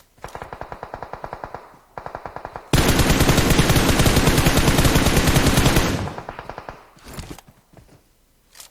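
Rapid automatic gunfire in PUBG Mobile rattles in bursts, swelling into a dense sustained barrage for several seconds, then tapering off into scattered shots.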